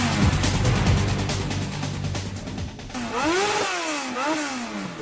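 Harley-Davidson motorcycles setting off on a ride: a deep rumbling idle and throttle blips, then engines revving up and down in rising and falling sweeps, loud and close.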